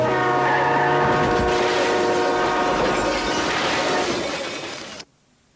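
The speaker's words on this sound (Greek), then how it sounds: "Το τρένο, κι αν σε δει, δεν μπορεί να σταματήσει γρήγορα." A train rushes past at a level crossing, its horn blaring in long steady tones over loud rumbling and rattling of wheels on track, then cuts off abruptly into near silence.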